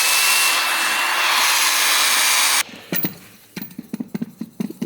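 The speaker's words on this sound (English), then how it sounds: "I'm gonna hit this with a wire wheel before we put the new coilover in" An angle-grinder wire wheel scours a crusty steering knuckle on a BMW E90 during a coilover install. It gives a loud, steady, harsh whir for about two and a half seconds, then cuts off, leaving scattered clanks and taps nearby.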